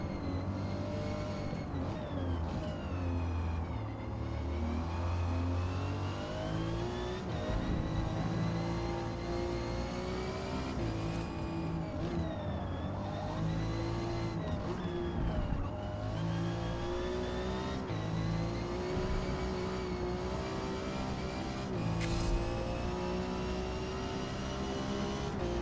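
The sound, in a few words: car engine revving near rev limiter, Forza Motorsport video game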